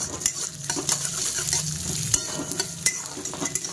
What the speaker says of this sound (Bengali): তো ডালটাই দিয়ে দিলাম, এর মধ্যে দিয়েছিলাম তেলের মধ্যে দিলাম জিরে আর শুকনো লঙ্কা ফোড়ন